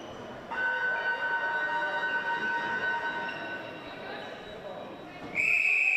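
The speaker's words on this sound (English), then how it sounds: "Whistle blows, underway." A referee's whistle starts the third quarter of a school netball state final in an indoor arena, sounding as a sharp, loud high tone near the end over a steady crowd murmur, with people talking throughout.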